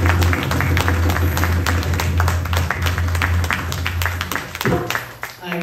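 Audience clapping at a thanksgiving puja, a crowd applauding under a steady low hum and some voices, the clapping thinning and fading toward the end.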